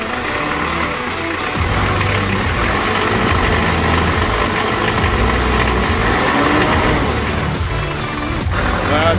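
A Mitsubishi Pajero diesel engine with fresh glow plugs cranks and catches after about a second and a half, then settles into a loud, steady, rumbling idle close by.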